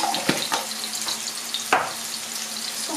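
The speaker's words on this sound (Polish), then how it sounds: "Indyczek nam się smaży" Turkey breast sizzles and crackles steadily in a hot pan, with a few sharp clatters like stirring or utensil knocks over the continuous hiss.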